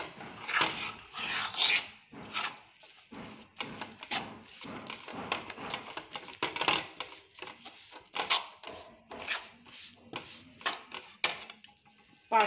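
Mysore pak mixture stirred with ghee in a pan, giving repeated scraping, rasping strokes of a spoon against the pan in a steady rhythm, fairly close and alone.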